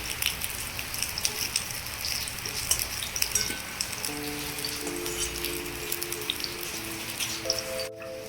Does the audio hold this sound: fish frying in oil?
yes